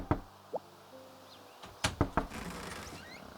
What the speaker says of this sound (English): If someone knocks on your door, click on the door and select Open Door